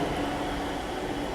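Inside a Rapid Metro train in Gurgaon, a steady, loud rumble of the moving carriage fills the space, with no voices over it.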